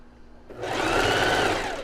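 A domestic sewing machine stitching a seam close to the edge of fabric for underwear, starting abruptly after a brief quiet moment and running as a steady, close, continuous whirring hum with no talking.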